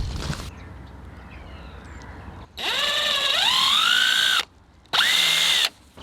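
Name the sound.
power drill drilling through wood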